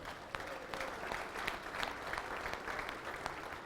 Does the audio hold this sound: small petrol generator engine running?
no